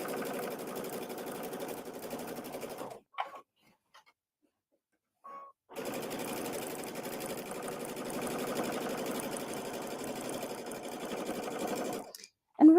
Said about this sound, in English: I'm doing a top stitch.